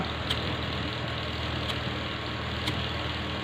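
A PC cooling fan draws hot air out through a heatsink, producing a constant broadband whooshing hum with a low steady drone and a few faint clicks, close and even throughout.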